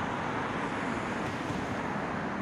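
Street traffic in Saint Petersburg, a continuous broad wash of passing cars and road noise with some wind, steady and moderately distant.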